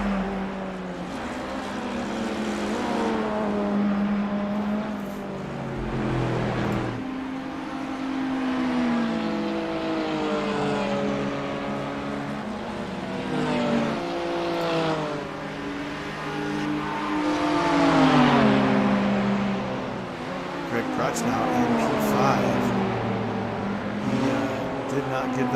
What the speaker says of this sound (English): the much faster LMDh goes by with ease through Pujon